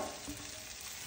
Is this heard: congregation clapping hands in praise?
no